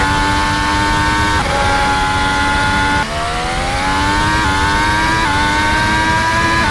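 A championship-winning race car engine screams through a hot lap, loud and close, its steady high-pitched drone rising through each gear before sharp drops at the shifts, with no talk over it.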